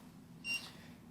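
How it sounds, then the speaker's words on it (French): A single short electronic beep from a ghost-hunting device during a paranormal investigation at a farm, faint and brief against a quiet low hum. "il a bipé 2 fois"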